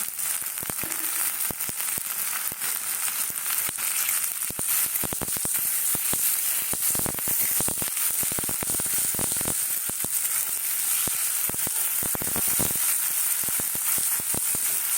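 Chopped onion and tomato fry in a pan, giving a loud, steady sizzle with dense crackling and popping spits throughout, close and unbroken for the whole stretch.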